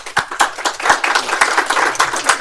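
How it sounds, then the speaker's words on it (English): A room of attendees claps for Richard Hoffmann, Editor in Chief of ind13, giving steady, moderately loud applause from a modest crowd with individual claps audible throughout. "So if we just give Richard a round of applause."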